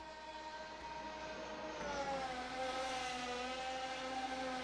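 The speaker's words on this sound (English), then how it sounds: "Why do I hear an engine?" An engine during a Formula Hybrid car race: a faint, steady, humming drone whose pitch slowly rises and swells slightly, heard alone without talk.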